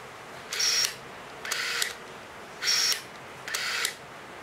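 Nikon DSLR autofocusing an AF Nikkor 35-70mm f/2.8 lens, heard as four short whirring buzzes of the body-driven focus motor, each about half a second long, close and clear against a quiet background.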